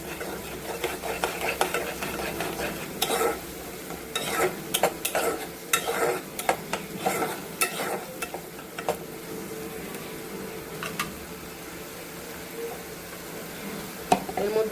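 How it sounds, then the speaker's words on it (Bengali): Cumin powder being stirred and fried in a pan for egg and potato curry, with a soft sizzle under repeated scraping and clinking of a spoon against the pan. "একটু জিরে গুঁড়ো দিচ্ছি। এটা ভালো করে কষবো।"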